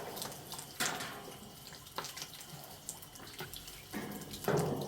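Water runs steadily from a tap while a body is washed for ghusl, with splashes and pours breaking through a continuous close flow; no talking.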